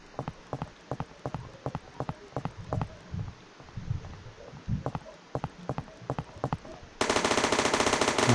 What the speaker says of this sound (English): Now you can notice their shooting sound, it sounds perfect